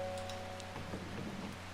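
Rain in the video game Strange Horticulture, a soft patter of drops on a surface under a low steady musical drone, quiet and continuous.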